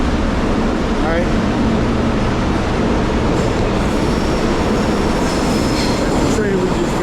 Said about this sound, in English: Train we just got off of.